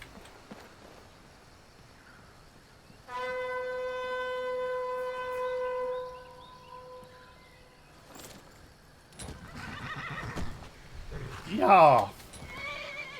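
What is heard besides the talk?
horse neighing in a video game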